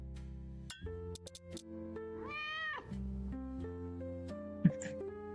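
A cartoon cat meows a few times in the Organized Inside puzzle video game, heard over steady synth background music, with a short clink near the end.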